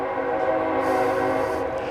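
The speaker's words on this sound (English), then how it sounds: "Sorry about the train noise." A train rumbling past nearby, a steady loud drone of wheels and engine with a sustained horn-like tonal blare throughout.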